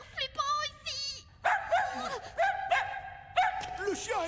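A cartoon dog barks in repeated bursts, close and loud, with yips and whimpering tones between the barks and no talk.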